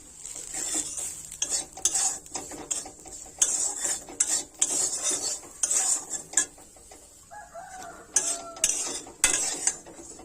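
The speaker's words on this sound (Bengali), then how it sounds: "লাল লাল করে বড়িটা ভেজে নিতে হবে আর অল্প পরিমাণে হলুদ গুঁড়ো দিয়ে দেব" Lentil dumplings (bori) frying in oil with a little turmeric in a pan, the spoon scraping and stirring in steady repeated strokes, metal clinks against the pan over a soft, continuous sizzle, close and fairly loud throughout.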